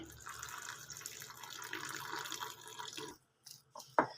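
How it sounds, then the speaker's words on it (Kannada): Water poured into a bowl of bonda batter mix makes a steady, soft trickling splash for about three seconds. It is followed by a brief pause and a couple of light clinks. "ಈಗ ಇದಕ್ಕೆ ನಾನು ನೀರು ಸೇರಿಸ್ಕೊಳ್ತೀನಿ."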